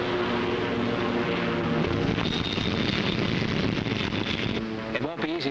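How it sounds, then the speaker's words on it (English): A Corsair fighter's propeller engine drones steadily as the plane approaches to land on an aircraft carrier, a continuous loud hum with wind and deck noise, and voices briefly heard over it. "Stand by to take aircraft aboard."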